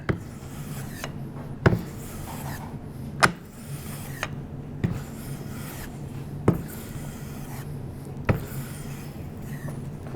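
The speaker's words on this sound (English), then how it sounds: "let me see if I can move this along a little faster by taking and planing some of the material just off the end here" A hand plane shaves Adirondack spruce guitar bracing in a workshop, soft rasping strokes punctuated by sharp knocks about every one and a half seconds, close and fairly quiet.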